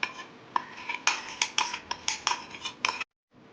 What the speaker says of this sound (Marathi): फ्राय केलेलं बेसन दहीमध्ये टाकून घेऊया.